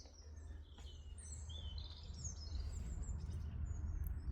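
Several birds chirp and sing outside an open window, faint and fairly distant over a steady low background hum, with no one talking.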